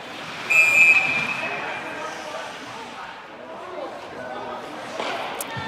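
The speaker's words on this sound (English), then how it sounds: "And a whistle for a slash." Referee's whistle blows at a youth 16U elite ice hockey game, one sharp shrill blast near the start, then arena murmur and a play-by-play commentator talking over the rink ambience.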